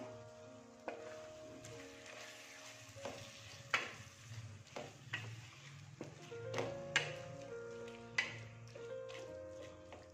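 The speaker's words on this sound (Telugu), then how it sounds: "టమాటోస్ బాగా మగ్గాలండి, బాగా ఫ్రై చేసుకుందాం." Tomatoes frying in a pan for Tamil Nadu-style chicken dum biryani, with a steady close sizzle and repeated sharp clacks of a spoon stirring and scraping the pan, no talking.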